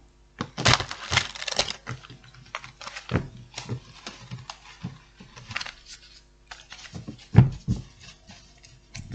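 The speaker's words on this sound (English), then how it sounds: "One more shuffle." Crisp riffling bursts and light flicking clicks, close by, repeating in short runs with brief pauses between them.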